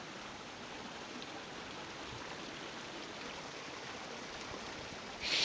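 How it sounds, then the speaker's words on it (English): A stream running near Beauchamp Falls: a steady, broad, unbroken rush of water that stays even throughout, with no talk and a slight swell at the very end. "there's no better sound than running water"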